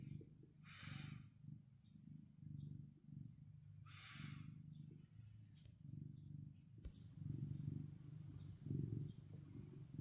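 Steady low purring from a cat outdoors runs through the whole stretch, close and continuous, with a few brief higher hisses or rustles on top.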